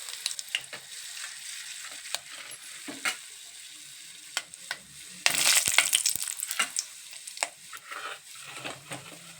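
Peanuts sizzling in hot oil for sabudana upma, crackling and popping in irregular bursts with a louder spitting surge midway, close and without voices.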